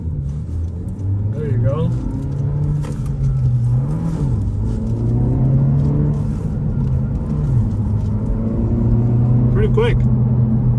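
A Honda Civic Si with a six-speed manual pulls away in first gear, its engine droning and rising steadily in pitch from up close while a person talks over it.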